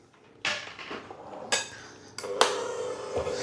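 Bakewell tart ingredients being mixed together in a bowl, with sharp clinks and scrapes of a utensil against the dish coming in separate bursts, loud and close, with no talking.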